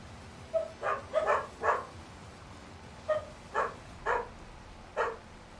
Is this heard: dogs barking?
yes